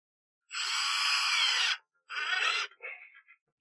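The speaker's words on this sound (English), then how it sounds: "And then I'll do one with the drill as well." A power drill driving into a golf shoe sole while Golfkicks are being mounted, heard up close in two clear whirring bursts, a long one and then a shorter one, followed by a brief softer spin.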